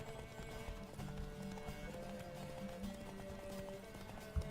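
A horse gallops in The Witcher 3 video game, hooves clip-clopping in a fast, steady rhythm, fairly close, with a low continuous wash beneath and a single thump at the end.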